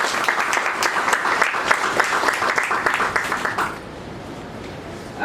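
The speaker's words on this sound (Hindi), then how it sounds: "गुप्ता जी के लिए एक बार जोरदार ताली।" Steady applause for Dinesh Kumar Gupta, a retiring chief manager at a Punjab National Bank ceremony, dense clapping from a seated audience for nearly four seconds before fading to quiet room tone.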